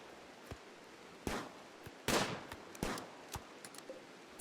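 Scattered gunshots from colonists firing in the Rimworld video game, a handful of sharp separate cracks at irregular intervals with a couple of louder bursts, over a faint background.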